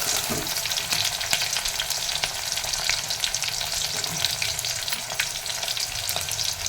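Capsicum curry frying in oil, a steady dense sizzle crackling throughout with faint scraping stirs now and then, close and fairly loud with no voices.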